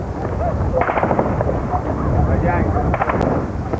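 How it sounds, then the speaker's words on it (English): Gunshots crack out amid a dense, noisy background rumble in the Iraq war, with several sharp reports scattered across the clip. "Soon enough, gunshots ring out and we take cover."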